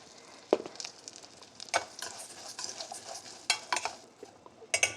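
Vermicelli is stirred and fried in a pan after raisins, giving a faint steady sizzle broken by several sharp scrapes and clinks of a spoon against the pan, close by with no voices.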